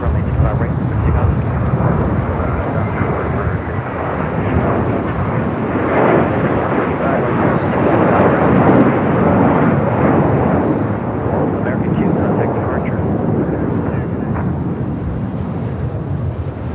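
An airliner takes off from runway 25 right at LAX with a steady, loud, broad roar of jet engines that holds strong throughout, mixed with wind buffeting on the microphone.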